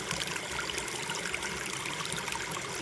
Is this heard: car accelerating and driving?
no